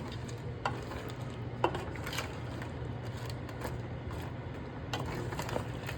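A pot of blue crab curry is stirred, with soft scraping and clicks of a spoon over a low steady simmering bubble, fairly quiet and close.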